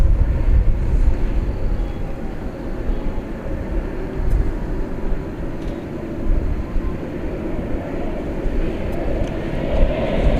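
A UPS cargo jet departs Dallas Fort Worth International Airport at night, a steady loud engine roar with rumbling low end sustained for several seconds, heard from a spotting position.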